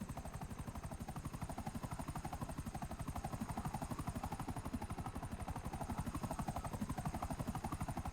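In GTA Online, a helicopter flies with a steady, fast rotor chop that thuds evenly throughout under a constant engine whine, loud and close, with no voices.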